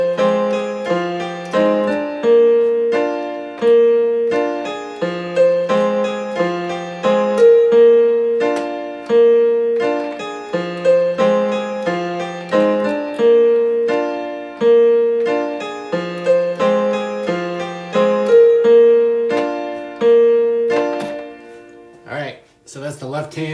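Solo piano playing a song intro, two left-hand chords rocking back and forth under a sparse repeating melody, steady moderate tempo, clear and close, ending with a brief pause and light noise.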